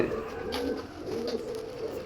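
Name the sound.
pigeons cooing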